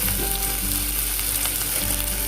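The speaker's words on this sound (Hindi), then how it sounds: "तो इसको तब तक मुझे फ्राई करना है जब तक ये गोल्डन ब्राउन ना हो सके।" Onions frying in a pan until golden brown, a steady, dense sizzle that stays loud and continuous for the whole stretch, with faint stirring scrapes and no voices.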